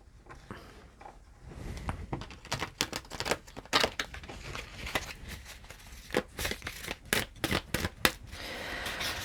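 Tarot cards are shuffled up close in repeated quick riffles and snaps, a steady crisp patter with sharper bursts throughout, with no one speaking.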